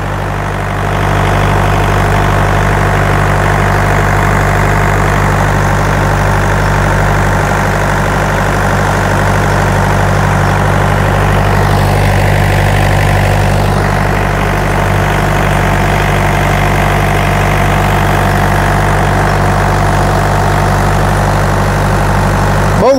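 An engine idles steadily through a test run before delivery, powering a T50 charger that draws about 40 amps; the low, even hum and vibration hold constant and smooth, with no talking.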